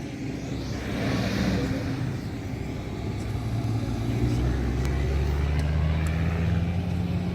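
Cars including a Dodge Demon and a Ford Mustang roar past at a half-mile shootout in Florida, a steady loud engine drone with a rising pitch as one accelerates, while spectators talk over it.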